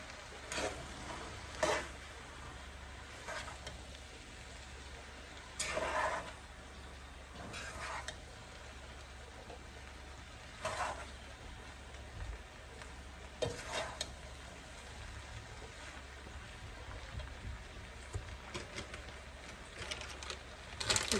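Spices and other ingredients frying in a pan and being turned over, with a steady low sizzle and periodic scraping stirs at irregular intervals, fairly quiet.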